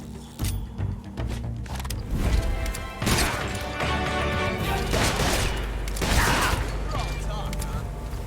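A weapon is reloaded in Metal Gear Solid Delta: Snake Eater, with a string of metallic clacks, clicks and creaks in an uneven rhythm, loud and close, some heavier knocks among them, and speech mixed in.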